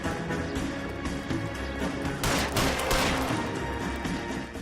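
Gunfire in the L.A. Noire video game, including a warning shot, a loud burst of sharp cracks around the middle over steady game background noise.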